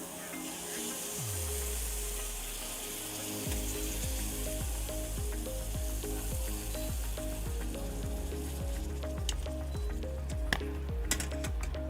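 Mexican street corn with scallions sizzling loudly in a hot pan at a food expo cooking demo, a steady dense frying hiss with a low hum beneath and a few sharp clinks near the end.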